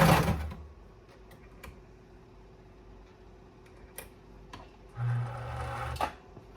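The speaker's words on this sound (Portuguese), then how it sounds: "posicionar o tecido na máquina e costurar." A domestic sewing machine stitches fabric along the outline of a cactus shape, a steady mechanical hum with light ticking, louder bursts near the start and again toward the end, alone without speech.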